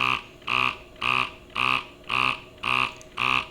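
Motor of a Medela Freestyle Flex breast pump in massage mode, cycling in seven regular whirring pulses about every half second, close and steady with no talk.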